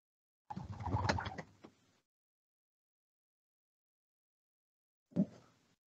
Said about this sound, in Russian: У меня вон голуби летают